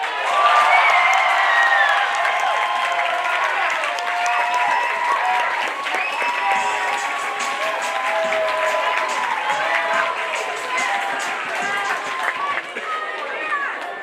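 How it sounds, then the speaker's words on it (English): A theatre audience at a staff talent show breaks into loud, sustained applause and cheering, with whoops and chatter mixed into the dense clapping throughout. "everyone, thunderous applause"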